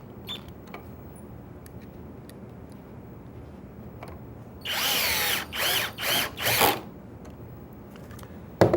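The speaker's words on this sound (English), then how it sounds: "And then with another driver, drive the screws home." A cordless driver sinks screws into a clamped pocket hole joint in wood on a workbench: four short, loud whirring bursts in quick succession, each rising and cutting off, after a quiet stretch of faint room noise.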